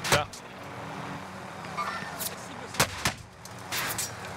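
Sharp gunshots from the Warzone video game crack out in a few separate bursts over a low background rumble while players talk.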